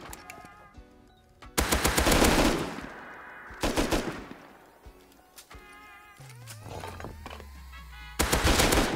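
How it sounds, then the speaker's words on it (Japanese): Several loud, close pump shotgun shots in a video game ring out in separate bursts with quieter pauses between, each blast sharp and booming. "ポンプの銃声がするね。"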